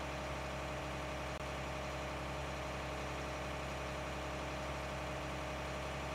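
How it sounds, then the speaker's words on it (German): Steady idling drone of a small tractor engine in Farming Simulator 19, a continuous low, even hum with no voices, running unchanged throughout. "diese kleinen Traktoren, die fahren nicht schnell, oder?"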